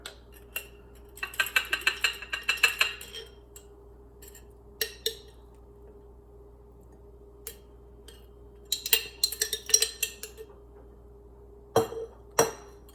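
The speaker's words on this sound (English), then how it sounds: "I'm going to take out the peels and mix in with the sugar" Lemon peels are stirred into a cup of sugar in a bowl, giving bursts of gritty scraping and light clinks of a utensil against the bowl. The bursts are separated by quiet pauses and there is no talking.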